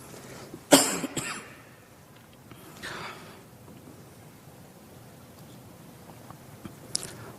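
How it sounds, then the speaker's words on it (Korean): A few sharp, close coughs break out during a young adults' church worship service, two quick ones early and a softer one moments later, then the room falls quiet. "왜냐하면 며칠 동안 기침이 너무 심해졌어요."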